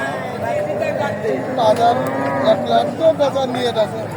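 A cow at a livestock market in Alampur, Kushtia lows repeatedly in several drawn-out calls, close and loud, over a busy background of crowd noise.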